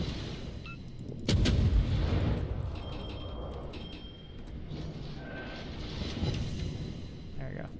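Naval guns fire in the World of Warships game, with a heavy boom early on followed by rumbling and mechanical clanks, and a voice talks over the battle noise.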